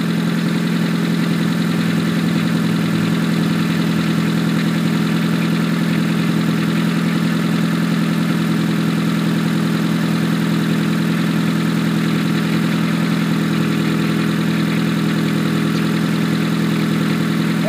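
A 1993 Honda Accord with a 2.2-litre engine and automatic transmission idles steadily with a slight exhaust leak, giving a constant low hum and a faint ticking buzz, close and alone without any talk.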